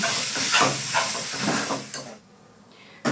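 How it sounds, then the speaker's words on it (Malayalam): Tomatoes sautéing in a pan for chicken curry, a loud hissing sizzle with a few stirring scrapes, then cutting off abruptly to near quiet before a brief faint hiss at the end. "ഇനി അത് നന്നായിട്ടൊന്ന് വഴറ്റി കൊടുക്കാം."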